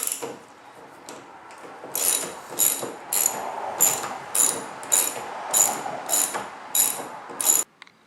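A ratchet clicks in about ten quick, evenly spaced bursts, close and crisp, removing the bolts of the plastic tailgate trim on a 2007 GMC Sierra. There is no talk.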